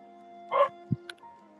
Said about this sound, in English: Sorry, it's my dogs.